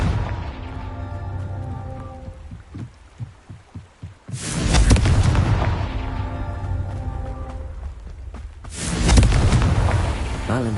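Confringo spell explosions in Hogwarts Legacy: a run of short thumping pulses builds up, then two big booming blasts with long rumbling tails, loud and close, over a faint musical background.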